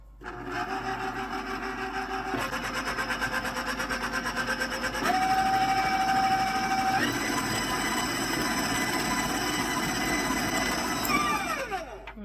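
Electric stand mixer beating buttermilk pancake batter, a steady close motor whine that steps up in speed several times, running continuously without talk.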